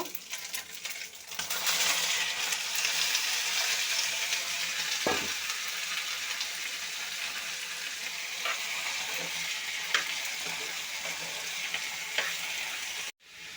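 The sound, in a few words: cucumber and ginger frying in pan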